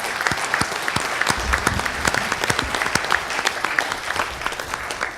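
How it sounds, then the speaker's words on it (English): An audience at a town hall meeting in the Nevada Theater gives sustained, dense applause, steady claps from many hands with no voices over it. "A big round of applause for Paul and also for the Nevada Theater"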